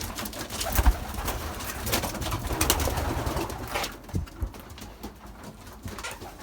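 Pigeons in an aviary coo softly and repeatedly at close range, with some rustling and background noise. The sound fades quieter toward the end and no voices are heard.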